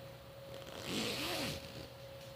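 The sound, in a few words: zipper being pulled on a bag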